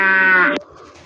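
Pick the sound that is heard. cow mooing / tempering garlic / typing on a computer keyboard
cow mooing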